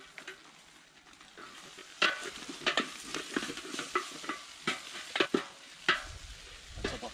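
A handful of onions frying in a goulash kettle, with a steady close sizzle and a run of sharp scraping, stirring knocks from about two seconds on.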